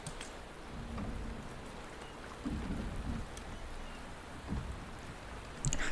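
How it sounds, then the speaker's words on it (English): Steady rain falls in the video game Wuthering Waves, a soft continuous patter with a few low rumbles and swells, and no voices. "The rain is subsiding, and the sky will soon clear."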